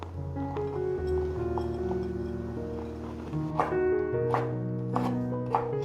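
A knife chops lion's mane mushroom on a board, a few sharp cuts landing near the end of the clip over steady background music, with no talking.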